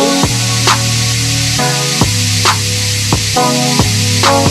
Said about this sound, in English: choose the pink spray paint and spray it all over the unicorn